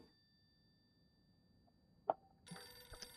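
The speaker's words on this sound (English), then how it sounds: "The phone is ringing." A telephone rings in the video game Silent Hill f. Near-silent ambience and a single sharp click come first, then the bright, insistent electronic ringing starts in the final second, fairly loud and alone.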